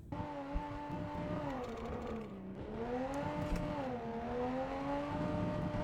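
Hirochi Sunburst car engine in BeamNG Drive, a steady droning hum that rises and falls in pitch as the car accelerates and eases off, continuous and fairly loud without talk.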